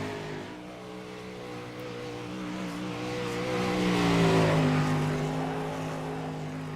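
A race car laps Volusia Speedway Park, its engine note rising and holding steady as it powers out of turns three and four, loud and close with a swelling roar around the middle before easing slightly.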